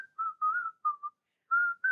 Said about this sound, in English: I want to hear the whistle.